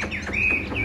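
A Mộc rở songbird sings close and loud in a brief burst of rising whistled notes and a sustained trill, with a low background hum.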